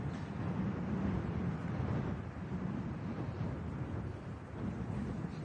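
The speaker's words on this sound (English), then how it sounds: "when you have this kind of intense wind, you can't strong arm Mother Nature" Strong, intense wind buffets the microphone on an open golf course during a match play round, a steady low rumbling roar that swells and eases slightly throughout, with no voices.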